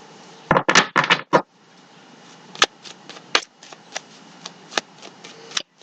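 Tarot cards riffle in a quick burst of shuffling, then a string of light, sharp flicks and taps follows as cards are drawn and flipped one by one, close and clear with no voices.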